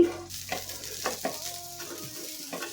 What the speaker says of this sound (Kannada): ಸ್ವಲ್ಪ ಎಣ್ಣೆ ಹಾಕಿ ಎರಡು ಕಡೆಗೂ ತಿರುವಿ ಹಾಕ್ತಾ ಫ್ರೈ ಮಾಡಿ